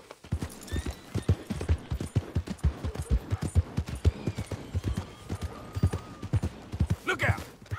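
Horse hooves clip-clop in a steady trotting rhythm in the open-world game Red Dead Redemption 2, with a faint whinny and light game ambience underneath.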